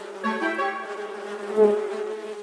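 Cartoon bees buzz near beehives, a droning swarm with a wavering pitch that swells twice, close and steady, with no voices over it.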